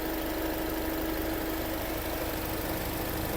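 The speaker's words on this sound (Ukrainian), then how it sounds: "Двигун працює гарно" A Renault Koleos 2.0 dCi diesel engine idles steadily at close range, a constant low rumble with a faint whine above it, no voices.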